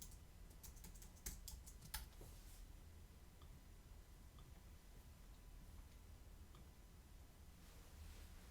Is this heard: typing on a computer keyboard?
yes